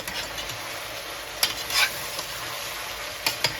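Ground spices for a Nepali local chicken curry fry in a pan, a soft steady sizzle broken by a few sharp clinks and scrapes as the mixture is stirred.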